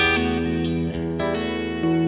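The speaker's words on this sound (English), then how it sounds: "And I'm going to turn the reverb up." Electric guitar played on the bridge pickup through a Bad Cat Black Cat amp on channel 1 with the reverb turned up, sustained chords ringing out with a lush tail and a few fresh strums.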